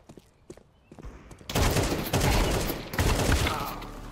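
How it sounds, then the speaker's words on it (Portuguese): P90 submachine gun fire in Counter-Strike 2: after a few faint taps, a loud sustained burst of rapid shots erupts and continues with slight surges to the end. "tem uma P90, dois segundos de distância me atirando"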